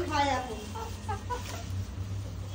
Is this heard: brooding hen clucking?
yes